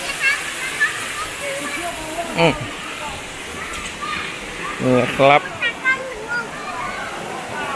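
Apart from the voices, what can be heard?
waterfall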